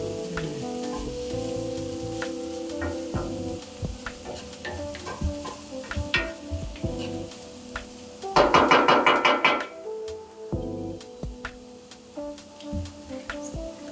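Garlic sizzles in a pan while being stirred, with soft frying hiss, utensil knocks and scrapes, and a louder burst of sizzling midway, all close and under no talk.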